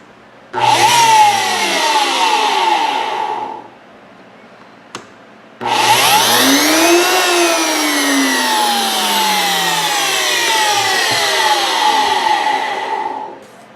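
A Nutribullet RX 1700W blender with a newly replaced drive gear runs in two loud bursts, a three-second whir, a pause with a click, then a longer eight-second roar whose motor pitch sweeps down as it settles.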